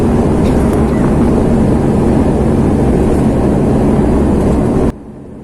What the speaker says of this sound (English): now it is going to touch down. It is going to land.